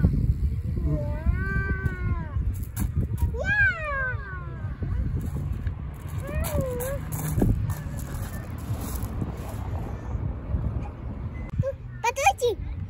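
A house cat meows several times in rising and falling cries, fairly close, over steady background noise and people talking.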